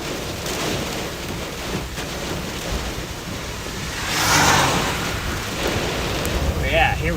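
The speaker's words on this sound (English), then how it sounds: "That was a good gust." A strong wind gust during a storm, about 60-70 mph, roaring up midway as a broad rushing swell over a constant blustery background, with a voice talking at times.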